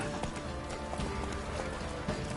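A horse named Roach trots along in a video game, its steady clip-clop hooves close and continuous for a couple of seconds, with faint game ambience and a brief voice underneath.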